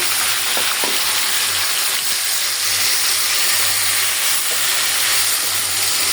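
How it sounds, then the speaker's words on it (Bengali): Marinated, spice-coated meat hits hot oil with a loud, steady sizzle and hiss that holds through the whole stretch, with a few faint clinks near the start and no talking over it. "মশলা মাখানো মাংসটা শুধু তেলে ছেড়ে দিচ্ছি"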